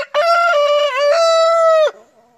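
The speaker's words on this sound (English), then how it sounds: "You just like to do the cock-a-doodle-doo, don't you?" A rooster gives one long, loud crow close to the microphone, rising and holding steady for nearly two seconds before breaking off, with nothing else around it.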